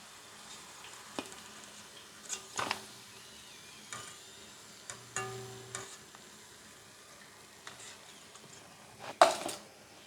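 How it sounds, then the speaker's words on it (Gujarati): Black raisins frying in oil for poha chevdo: a faint, low sizzle runs throughout, broken by scattered light clinks and stirring taps. "દ્રાક્ષ જેવી તળાશે એવી ઉપર આવી જશે."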